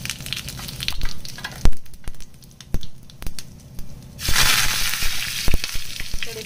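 Asafoetida and cumin seeds hit very hot oil for a tempering, sizzling and crackling with sharp pops and a loud burst of frying midway, no talk over it.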